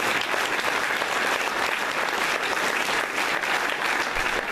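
Steady, dense applause from an audience fills the whole stretch, even and sustained with no voices standing out.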